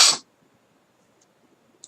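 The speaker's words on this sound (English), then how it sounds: "I apologize for the sneezing fit I had" One loud, abrupt sneeze bursts out close to the microphone during a football podcast recap recording of the Senior Bowl, followed by near silence with only faint, scattered room noise.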